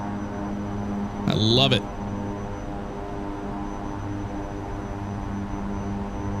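Aircraft engine at takeoff power in the X-Plane 10 flight simulator, a steady low drone and hum that runs throughout, briefly overlaid by a short voice.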